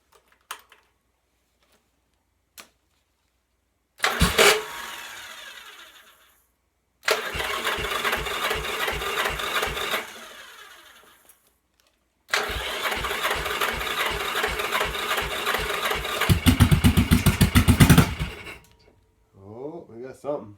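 A 1986 Yamaha XV750 motorcycle fitted with a single carb manifold cranks in several separate bursts between silent pauses, then catches and runs roughly for a few seconds before cutting out.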